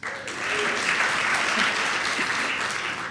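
An audience at the 2022 Celebration of Giving, a charity benefit acknowledging donor foundations, breaks into warm, sustained clapping that swells quickly and stays steady for about three seconds.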